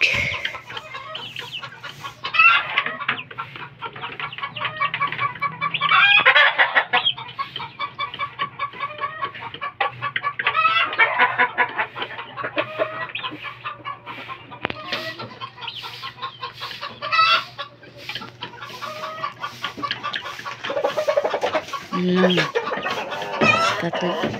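Gamecock rooster and hens clucking in a yard, with repeated close, busy bursts of clucks and squawks and a steady low hum beneath throughout.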